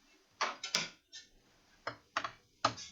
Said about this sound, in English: let's remove the screws